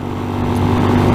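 A 2020 RPS Hawk 250 Enduro motorcycle with a 229cc single engine, a close, loud, steady idle hum lasting about a second.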